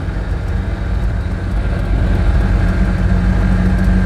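The small engine of an Invacar idles and runs steadily, a low continuous rumble that grows slightly louder partway through.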